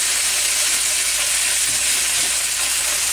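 Mirin cooking wine poured into a hot pan of oil for baby bok choy, giving a loud, steady sizzle that holds throughout, close and alone without voices.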